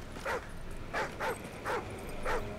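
Dog in the Call of Duty: Ghosts video game giving five short, evenly spaced barks and yips with a whimpering tone, faint over a low background hum.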